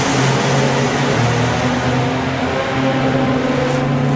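A three-cylinder blown drag racing car roars down the track in the evening, a loud, steady engine drone filling the whole stretch without letup.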